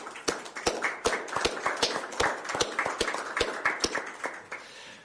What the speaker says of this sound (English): could we have a round of applause to introduce our new board members and new officers